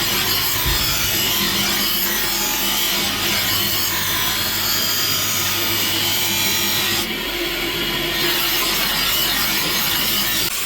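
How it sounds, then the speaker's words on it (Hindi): A grinder scrubs the steel blade of a double-edged dagger clean. The grinding is loud, steady and harsh and runs without a break, with no voices. "इसलिए हम लोग इसी में इसको घिस के साफा कर लेते हैं पहले।"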